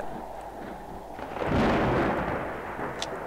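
A thunderstorm disaster in the Roblox game Natural Disaster Survival brings a deep, rolling rumble of thunder. It swells in the middle and fades against a steady low background, with no talk over it.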